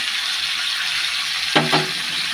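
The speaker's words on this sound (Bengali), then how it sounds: "টমেটো গ্রেট করে নিয়েছি, জিরে, হলুদ, কাঁচা লঙ্কা সব দিয়ে দিচ্ছি" Steady sizzling of a frying pan as grated tomato, cumin, turmeric and green chilli go in, with a brief louder hiss and clatter near the end.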